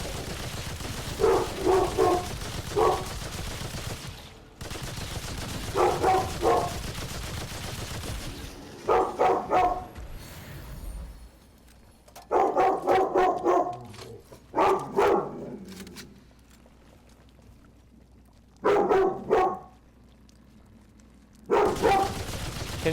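Dog in the video game Remnant 2 barking in repeated clustered bursts, loud and near, with short gaps of quieter background between volleys.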